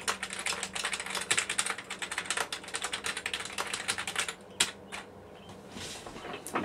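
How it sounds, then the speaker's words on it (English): Rapid clicking keystrokes from a keyboard connected to an iPhone, dense and continuous at first, then slowing to a few scattered clacks, fairly close. "so I can type."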